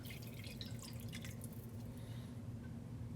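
About 2.5 liters of water pours into a pot for a light chicken stock, a steady continuous trickle and splash over low kitchen hum, with no talking.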